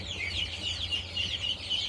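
Chickens, including Cinnamon Queens, white roosters and a Rhode Island Red, cluck and chatter steadily in short repeated calls, a busy flock close by with a low hum underneath.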